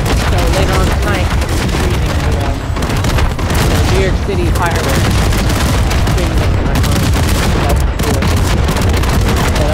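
Fireworks are going off on a Fourth of July night in New York City, a dense continuous barrage of loud booms and crackles, with a voice talking over the blasts.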